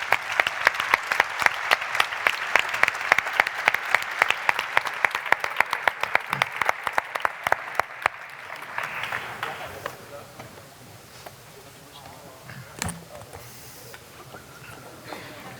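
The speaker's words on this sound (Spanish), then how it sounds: "un aplauso muy fuerte para el resto del equipo" An audience at a cybersecurity challenge event claps loudly and steadily for the winning Spanish team, rhythmic sharp claps that fade out around the midpoint, leaving quiet room noise and murmured voices.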